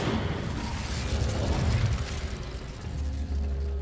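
Incendio fire spell cast in Hogwarts Legacy, a dense, sustained whooshing burst with low rumbling booms and crackle that holds steady for a few seconds and then thins slightly.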